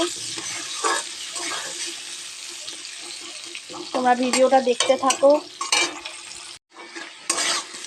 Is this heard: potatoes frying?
yes